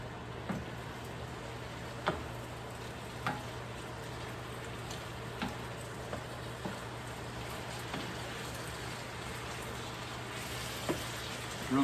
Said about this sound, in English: Stir this in and get the rice coated with all the nice juices.